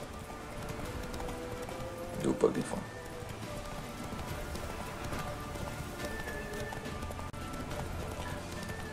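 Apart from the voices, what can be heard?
horse galloping hooves in The Witcher 3 video game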